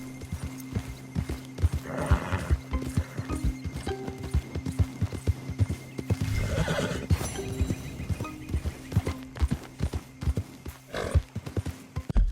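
A horse gallops in Red Dead Redemption 2, with steady, close hoofbeats drumming rhythmically throughout, a brief whinny in the middle, and a musical drone running underneath.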